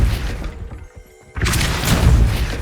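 Casting the Depulso spell in Hogwarts Legacy gives a loud, heavy whoosh and boom that drops to a brief hush and then returns as a dense, rumbling burst.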